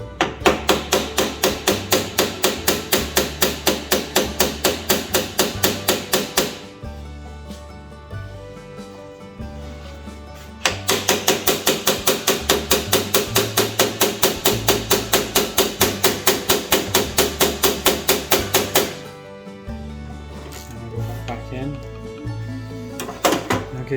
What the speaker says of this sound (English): hammering the tool in and seeing if we can't crack it off